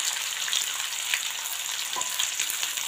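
Cumin and mustard seeds crackle in hot oil for a guar bean and green chickpea curry, a steady close sizzle dotted with small sharp pops throughout, no voices.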